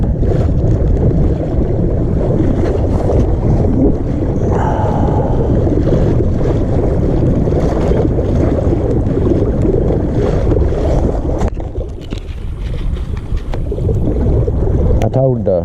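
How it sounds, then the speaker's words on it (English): Wind buffeting a fishing boat at sea, heard as a loud, continuous low rumble of gusts across the microphone, easing slightly toward the end. "The wind seems to be dying down a little bit."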